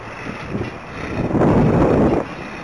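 Wind rushing over the microphone during an ultralight flight, a steady loud roar that swells in the middle before easing slightly.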